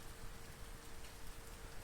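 Light monsoon rain falls steadily at night, a soft, even wash of patter that stays constant and fairly faint, with no voices.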